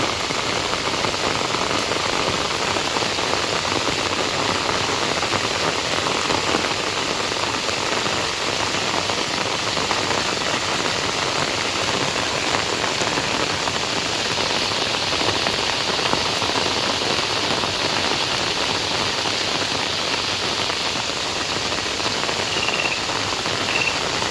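Heavy rain pours steadily and loudly outdoors, a dense unbroken hiss of drops on surfaces lasting throughout with no voices.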